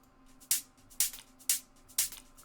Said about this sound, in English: This here is just a hat loop.